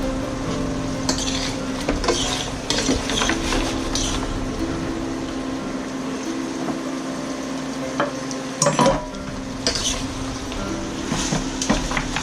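Spareribs splashed with dark soy sauce sizzle in a pan while being tossed, the steady fry broken by repeated scrapes and clinks of utensil against metal, up close and fairly loud.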